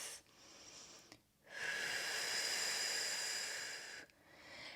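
Deep, steady breathing during a yoga practice: a short breath, a pause, then a long sustained airy exhale that lasts a couple of seconds, close and soft, with no talking.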